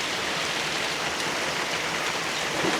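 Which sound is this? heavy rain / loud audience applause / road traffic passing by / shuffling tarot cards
heavy rain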